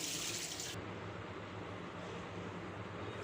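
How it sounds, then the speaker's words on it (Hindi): Tap water runs steadily into a sink while raw chicken liver is rinsed beneath it, a soft, even rush that briefly splashes louder at the start. "अब हम इनको पानी में अच्छी तरह धो लेंगे, खुले पानी में"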